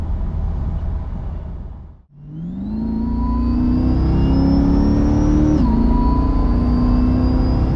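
A Corvette C8 engine cuts out briefly, then a rising drivetrain whine builds steadily as the car rolls and accelerates, loud and close, with no talking.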